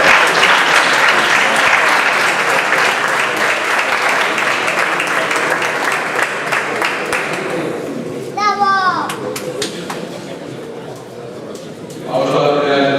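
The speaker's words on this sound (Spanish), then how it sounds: "El aplauso para Milagros." Audience applause at an Asturian handball tribute ceremony, loud sustained clapping from a crowd for about eight seconds, fading as children's voices and chatter take over, with a brief renewed swell of noise at the end.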